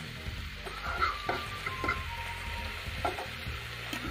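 Masala fries in a pan, with sizzling and crackling under intermittent scrapes and clinks as it is stirred, close and moderately loud.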